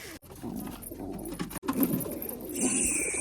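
A pigeon in its cage coos in soft low repeated throaty calls, close by, with some rustling and scraping in between and a faint higher bird call near the end, no talking.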